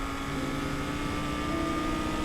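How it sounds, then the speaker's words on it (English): Helicopter in a police-themed video game, a steady droning rotor and engine hum that stays loud and even throughout with no talking. "Gosh darn helicopters."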